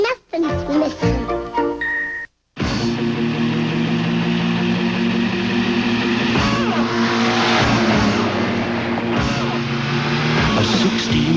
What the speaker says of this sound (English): A 16-valve dual overhead cam engine.